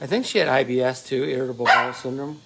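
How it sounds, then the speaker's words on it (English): A pet dog barks a few times indoors at home, the barks partly buried under someone talking steadily close by. "That's my dog barking."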